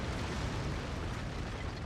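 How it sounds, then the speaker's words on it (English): A deep, rumbling explosion from the MechWarrior 5 mech combat game rolls on as a faint, steady broadband roar through the whole short stretch, with no sharp onset. "Nice explosion."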